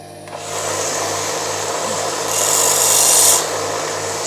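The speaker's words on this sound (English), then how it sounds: "Just deburring the tip of the butt of the shaft." The butt end of a shaft being deburred in a workshop, a continuous harsh rasping and grinding tool sound that swells louder midway, close and steady with no speech.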